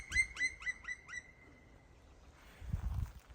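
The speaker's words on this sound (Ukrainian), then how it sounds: "Якась пташка." A small bird calls in a forest during spring mushroom hunting: a run of five sharp, descending chirps in quick succession, fairly close and clear. Quiet rustling and soft footsteps follow.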